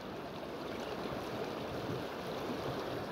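A river flows along its bank where trout are fished, a steady, even rush of water close by, with no voices over it.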